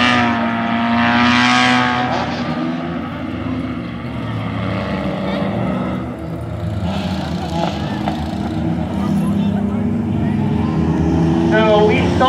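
A stock compact race car at Mt Lawn Speedway rolls back toward the pits after a 50-lap feature, its loose front bumper flapping, with a steady engine drone running under an announcer's commentary.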